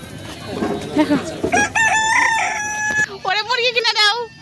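A rooster crows loudly and nearby, with hens clucking around it, while a person speaks briefly at the start.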